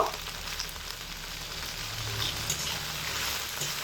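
Okra frying in a pan with a little salt over medium heat gives a continuous close sizzle with light stirring sounds, and no one talks.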